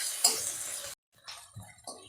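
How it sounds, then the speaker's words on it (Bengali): Ginger and garlic paste frying in a pan, a soft sizzle with a utensil stirring and scraping, broken by a brief pause and then a few further stirs. "আদা রসুনের গন্ধটা চলে গেছে, ভালো ভাজা হয়েছে"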